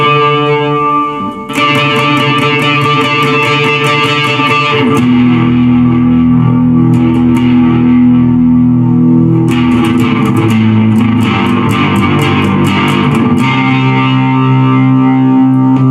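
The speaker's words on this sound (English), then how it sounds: "let's see if we add in a little bit of reverb and chorus" Squier Affinity Telecaster electric guitar played through reverb and chorus, loud strummed chords with shimmering wash and bursts of rapid picked attacks, sustained tones ringing between, no voices.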